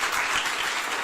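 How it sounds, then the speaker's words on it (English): An audience at the Europe Open podium ceremony in Amsterdam claps together in a dense, steady burst of applause, moderately loud and without voices. "usually this is the moment that I get a thunderous applause"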